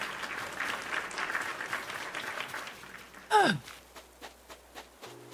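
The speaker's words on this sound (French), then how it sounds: "Merci pour les applaudissements." Quiet clapping for a few seconds from a video game audience, followed by a sighing vocal sound and a few scattered claps.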